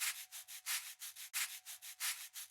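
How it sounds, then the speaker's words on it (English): Shaker loop in a boom bap drum pattern, a steady rhythmic train of bright, gritty rubbing shakes with regular accents and a faint low thump underneath, close and dry with no voices. "Next up, we have the shaker loop,"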